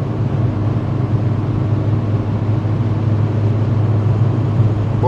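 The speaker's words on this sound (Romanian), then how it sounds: "Suntem cu Logan 15 DCI cu 130 pe oră pe autostrada la Sebeș" A Dacia Logan 1.5 dCi cruises at 130 km/h on the motorway near Sebeș, giving a loud, steady cabin roar of engine, tyre and wind noise that holds unbroken throughout.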